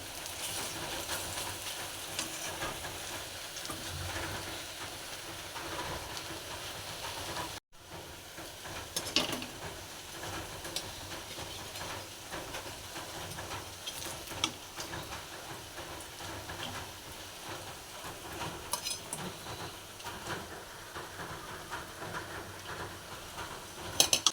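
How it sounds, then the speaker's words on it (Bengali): Onion fritters crackle and sizzle continuously in hot oil, a dense steady frying hiss with scattered pops and occasional stirring, briefly interrupted near the start. "তো চলো এখন তেলে ভাজাটা করে নিই"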